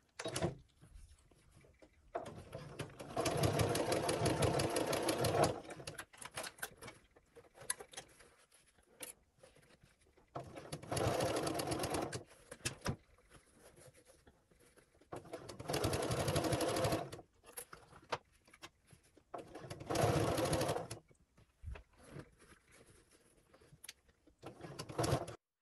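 A sewing machine bastes an oven mitt in four separate bursts of rapid whirring stitching. Quiet pauses between the runs carry faint handling sounds.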